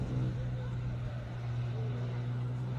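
Classic Jaguar race car climbing a hill course at a Cape Town speed event, its engine a steady low drone held throughout at moderate distance with no clear gear changes.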